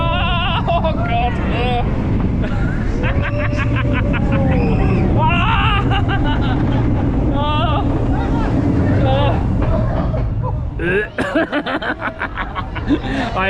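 Velociraptor roller coaster at Paultons Park, recorded on the ride: a steady roar of wind and rushing motion throughout, with a rider's voice and excited laughing over it, turning choppier near the end as the ride slows.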